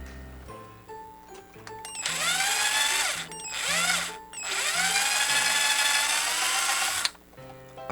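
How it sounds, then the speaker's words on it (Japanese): A very thin drill bit bores a hole in an RC car body during a custom C64-1 overland build, the motor whining in two short bursts and then one long steady run before spinning down, close up with no talking. "でまずは非常に細いドリルで開けます。"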